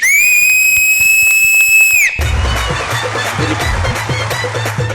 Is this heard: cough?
no